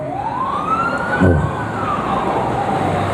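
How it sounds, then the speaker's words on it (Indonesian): An ambulance siren passes on a road, rising and falling in a long wail that swells as the vehicle draws near and fades after, with a brief rattling burst of engine and traffic noise mid-pass. "Kita kaget aya ambulan lewat kaget kula."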